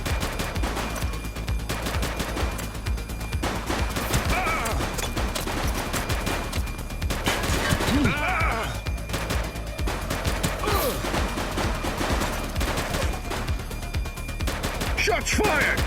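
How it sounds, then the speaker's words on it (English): Sustained, dense gunfire rattles through a police shootout in a video game: rapid overlapping shots and machine-gun bursts continue loudly throughout, with occasional shouted voices underneath. "Shots fired!"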